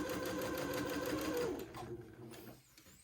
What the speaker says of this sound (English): this time I'm sewing at a 1/4 inch seam allowance